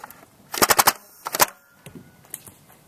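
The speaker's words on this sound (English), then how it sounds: "what I'm going to do is just pump it a few times, shoot off about, it should be 4 to 6 bullets" A pump-action Nerf blaster fires foam darts in a quick, close string of about five sharp pops, then a second short cluster of three, with faint mechanical clicks between volleys.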